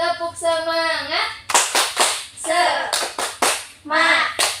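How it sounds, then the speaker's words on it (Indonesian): Sharp bursts of group clapping in a quick rhythmic pattern, alternating with a voice chanting along in time. "Yuk, tepuk semangat."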